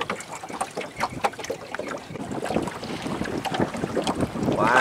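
Strong north wind gusting over open floodwater in the Mekong Delta during the flood season, a steady buffeting roar with rough microphone wind noise and water movement, loud and continuous throughout.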